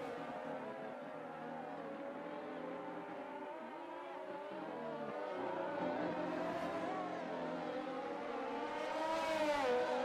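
Alpine Formula 1 car on a push lap in a racing game, a high whining engine note climbing and dropping through gear changes, steady and growing louder toward the end.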